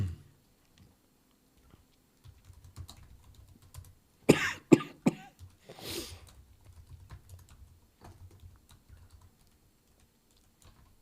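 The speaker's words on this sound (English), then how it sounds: "What am I doing? Coughing." A couple of sharp coughs break through near the middle, surrounded by soft keyboard typing and light clicks in a quiet room.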